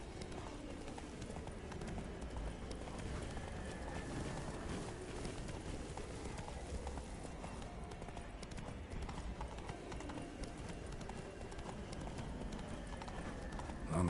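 Roach, a horse in the Witcher 3 video game, gallops steadily with continuous clip-clop hoofbeats under game ambience, and voices speak over parts of it.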